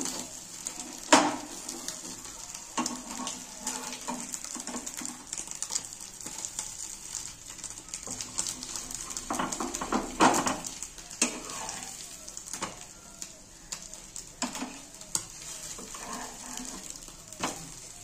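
Bengali egg toast frying in a pan, a soft continuous sizzle with scattered clicks and scrapes of a utensil turning it, close and moderately quiet.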